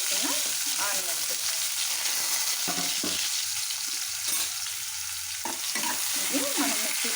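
Thinly sliced onions frying with curry leaves, mustard seeds and cinnamon in a pan, a strong continuous sizzle with frequent stirring scrapes, without talk.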